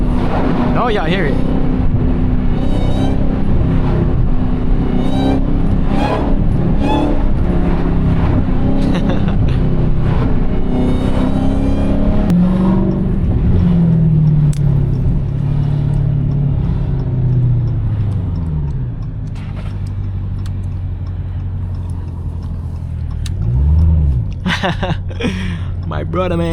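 Supercharger whine from a Dodge Charger Hellcat on the road: a loud, steady mechanical whine and engine rumble rising and falling with throttle, continuous under someone talking, with a sharp rev surge near the end.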